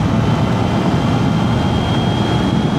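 A 2025 Triumph Trident 660 motorcycle engine holds a steady, loud, continuous drone while cruising at around 5,000 RPM on a long ride, with a constant whine over heavy low rumble and wind.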